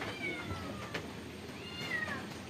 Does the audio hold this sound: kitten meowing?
yes